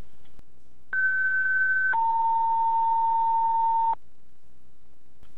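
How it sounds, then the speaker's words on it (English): A fire department dispatch last alarm call sounds as loud electronic tones: a higher steady beep followed by a longer lower tone, clean and close, with no talking. "This is the last alarm call from Marshall Fire Department Firefighter 213, Randall Scott Davenport"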